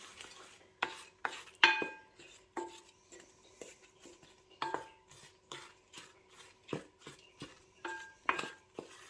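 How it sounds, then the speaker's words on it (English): Dry gluten-free, vegan bread ingredients are stirred in a bowl with a utensil that scrapes and taps against the sides in a steady, repeating rhythm of close strokes, with no talking. "we're just going to give it a stir and make sure that it's well mixed in"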